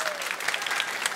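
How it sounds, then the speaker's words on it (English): A school concert audience applauds the Ripken Cabaret Choir at Cupertino High School, a brief, steady wash of many hands clapping with no pauses. "keep that applause going for Ripken Cabaret Choir"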